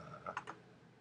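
Three or four quick key presses on a Mac computer keyboard, close and fairly quiet, clustered in a short burst before fading to room hush.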